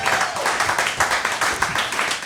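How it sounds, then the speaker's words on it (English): An audience at a comedy roast competition claps together in a steady burst of applause, close and lively, with no speech over it. "Clap it up for Ranaan Hershberg."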